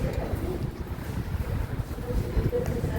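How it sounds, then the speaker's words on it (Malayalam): Strong wind buffets the microphone outdoors in Zagreb, a steady low roar and rumble with gusty swells and no clear talk. "കാരണം എന്താ വെച്ചാൽ നല്ല കാറ്റൊക്കെ ഉണ്ട്"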